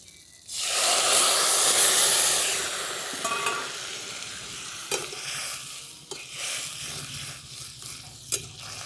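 Broth poured onto fried ground spice paste for a winter vegetable curry bursts into a loud hissing sizzle that fades over a few seconds, followed by close stirring scrapes and sharp clinks of a utensil against the pan, with no speech.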